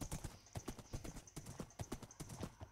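A Minecraft horse gallops through trees, rapid rhythmic hoofbeats clopping in a fast, even pattern, quiet and close with no talking.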